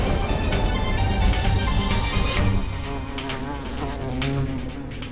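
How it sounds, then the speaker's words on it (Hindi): A bee buzzes in a loud, continuous drone that rises in pitch, then drops back to a steadier hum, with no speech. "महेशपति की मधुमक्खी इनके शरीर के अंदर है, उसे बाहर निकाल कर मारना होगा,"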